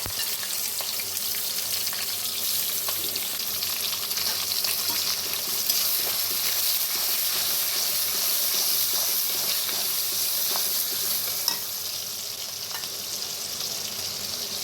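Onions fry in a pan for a beef tripe curry, making a steady, loud, close sizzle with occasional small pops and faint stirring.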